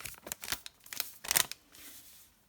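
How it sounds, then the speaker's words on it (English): A few quick snips and crinkles of scissors cutting open a small yeast sachet, close and brief, followed by a soft rustle. "Right, so cut your sachet open."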